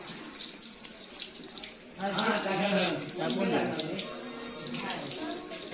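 Water is poured out in a soft splashing stream for a few seconds, moderately near, over a steady insect-like hiss, with a voice speaking briefly.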